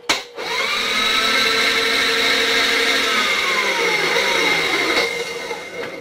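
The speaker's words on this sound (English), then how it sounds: "We're going to go ahead and deburr this end here" A power grinder or deburring tool works the end of a metal tube for a custom fishing rod holder, giving a loud, steady whine that holds for several seconds and then trails off as it spins down.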